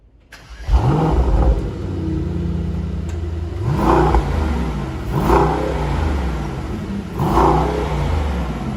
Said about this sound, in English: So it's now time for the ultimate sound check of the E63S.